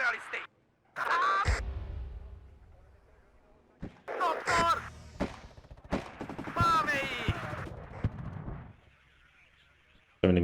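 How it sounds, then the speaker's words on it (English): Machine gun fire in the Cold War strategy game WARNO, rapid bursts and heavy booming reports in uneven clusters with brief quiet gaps, loud and close, chattering rattles layered over distant rumble. "So many machine guns being used by the AI"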